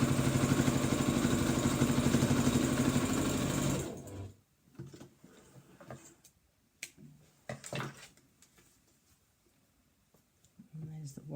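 A sewing machine runs in a fast, steady, close burst while it stitches a zip onto a fabric box bag, then stops, leaving quiet handling clicks and rustles.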